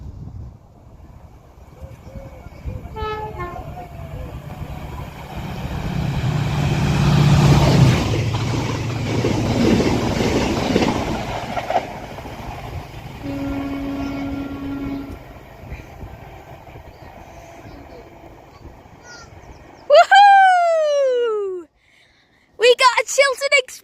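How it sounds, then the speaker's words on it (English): Chiltern Railways locomotive 68027 hauls Mark 5A carriages past Kings Sutton on the Cherwell Valley line, a loud rumbling roar that swells and fades over about twelve seconds, then a short steady tone and a few sharp high squeals. "that was 68027 with the Mark 5A carriages for Chiltern Railways"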